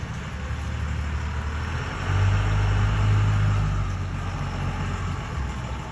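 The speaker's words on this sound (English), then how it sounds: "It's a truck." A truck drives past a street corner, its low engine rumble swelling to a loud peak midway and then fading as it moves away, with no talk.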